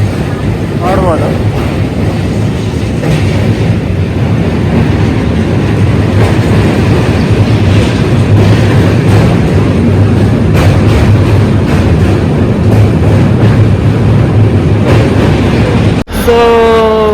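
A train at Mysore railway station produces a loud, continuous rumble and rattling clatter, mixed with wind buffeting on the microphone, until the sound cuts off abruptly near the end.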